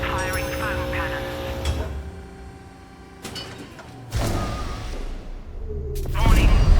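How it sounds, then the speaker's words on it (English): Foam cannons fire inside a video game's facility with booming, hissing bursts over a humming mechanical bed, as an automated voice announces alerts between the blasts. "Firing foam cannons."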